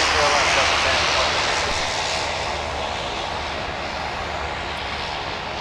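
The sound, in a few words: Delta Boeing 757 jet taking off from runway 30 left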